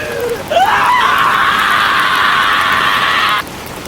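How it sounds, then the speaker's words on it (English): A long, high, sustained scream rising at the start and holding steadily for about three seconds before cutting off abruptly, loud over a noisy rumbling background, presented as coming from the sewers in an emergency-alert scenario. "Did you hear that? It sounded like screaming. I think it's coming from the sewers."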